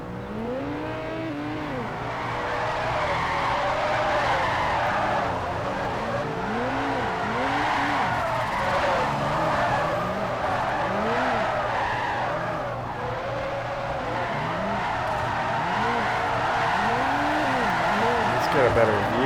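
Cars drifting in Forza 4, rear- and all-wheel-drive, on Fujimi: sustained tyre squeal and skidding over revving engines, with repeated looping pitch sweeps as the cars slide, loud and continuous, with occasional voices in the background.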